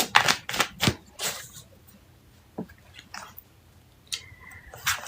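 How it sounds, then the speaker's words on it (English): Tarot cards shuffled quickly up close, a cluster of crisp riffling bursts followed by scattered softer card taps and slides, fairly quiet overall. "Alright, gotta get this quick shuffle on."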